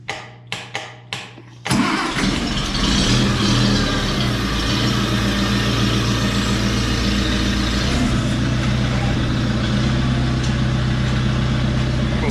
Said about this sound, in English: It's got a brand new motor, so usually you don't have to choke it or nothing.